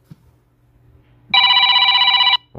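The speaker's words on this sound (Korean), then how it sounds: "전화가 왔네요." Telephone ringing indoors during a live drawing session, one loud electronic ring burst of about a second after a quiet pause, with a sound cutting in right at the end.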